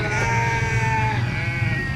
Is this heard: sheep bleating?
yes